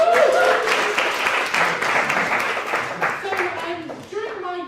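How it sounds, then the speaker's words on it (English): Audience applause and clapping at a stand-up comedy show, moderately loud at first and tapering off, with voices talking over it. "Give another round of applause"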